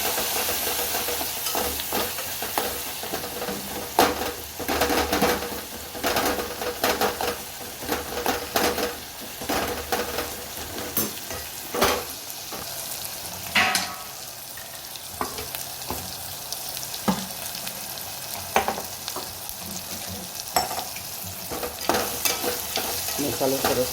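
Masala with green chilies, red chili, garam masala, coriander-cumin powder and salt fries in a pan, a continuous close sizzle broken by repeated scraping stirs of the spoon.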